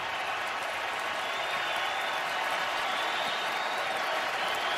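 Baseball crowd at a Yankees–Brewers game cheering and applauding on their feet, a dense, steady roar of clapping and voices filling the stadium with whistles rising above it.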